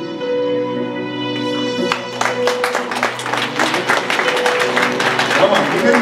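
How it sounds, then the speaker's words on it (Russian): A church congregation at a service in Saint Petersburg breaks into applause. It starts over a held musical tone, then swells into dense, close clapping that continues steadily to the end. "мы готовы сегодня поддержать вас аплодисментами"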